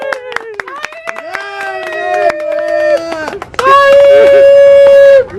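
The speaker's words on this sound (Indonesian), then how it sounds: "tepuk tangannya yang meriah" A group claps hands at a sack-race event, with scattered sharp claps mixed under strong sustained tonal voices or music that dominate the foreground.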